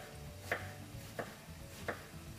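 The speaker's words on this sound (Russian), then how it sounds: "И нарезаем кабачок тоже кубиками." A knife chops a zucchini into cubes on a cutting board for a vegetable ragout, three distinct, evenly spaced cuts in a quiet kitchen with no talking.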